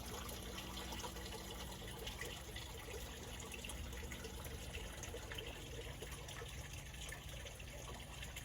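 Water flows out of a clear pipe into the second tank of an aquaponics system, a steady, moderately quiet gushing and trickling that holds constant throughout with no voices.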